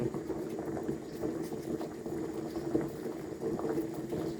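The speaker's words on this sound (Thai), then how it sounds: "ต้มอีกสักนิดหน่อยนะครับ เม็ดขนุน" Jackfruit seeds boil in a pot of water, a continuous close bubbling and gurgling that stays steady throughout with no one talking.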